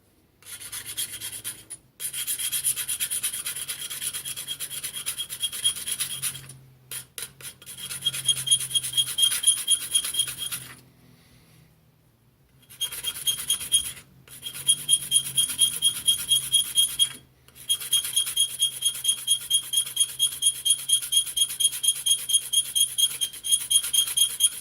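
A coarse metal file flattens the bottom of a piece on a welding table with loud, close, rhythmic rasping strokes in long runs, broken by a few brief pauses.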